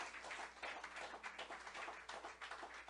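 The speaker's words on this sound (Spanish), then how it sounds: "Den un aplauso al Señor, por favor" A church congregation applauding, a steady wash of many hands clapping together at a moderate distance, sustained and fairly even with no single claps standing out.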